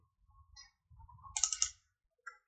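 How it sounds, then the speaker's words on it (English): A computer mouse gives a few sharp, quiet clicks, including a quick double click, among faint keyboard-like taps in an otherwise silent room. "We will start by double clicking on geometry."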